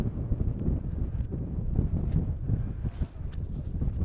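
Steady wind buffets the microphone on an exposed Lake District summit at Black Crag, a continuous low roar with gusty surges and no voices.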